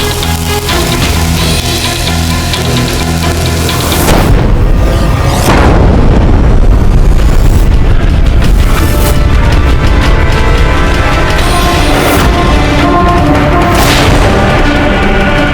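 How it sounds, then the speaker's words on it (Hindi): Cannon fire in a battle at Chittorgarh fort comes as several heavy, booming blasts spread across the stretch, each with a rumbling tail, over a dense, loud backdrop of battle noise. "शीघ्र निशाना लगाओ इस तोप पर, यही सबसे ज्यादा नुकसान कर रही है हमारा।"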